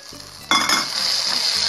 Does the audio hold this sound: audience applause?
no